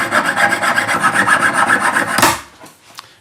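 Jeweler's saw blade cutting silver for a handmade dogtag, a fast rhythmic rasping of back-and-forth strokes, close and loud, stopping abruptly near the end followed by a faint tap.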